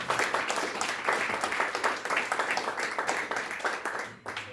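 A forum audience claps steadily to welcome a speaker at a North Korean human rights international forum, with full, continuous applause filling the room for several seconds.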